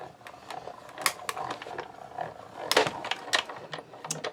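A hand-cranked die-cutting machine rolls a card between platforms during card making, giving faint, irregular mechanical clicking and ratcheting with a soft grinding roll underneath.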